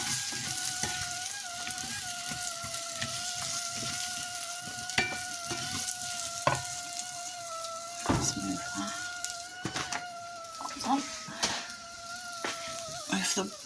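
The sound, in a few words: courgette, mushrooms and onion frying in a pan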